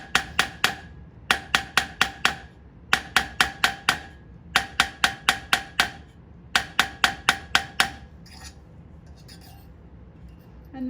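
A non-steel hammer strikes metal tubing to stretch it, in rapid bursts of four to six ringing blows separated by short pauses, close and loud, ending in quieter handling sounds.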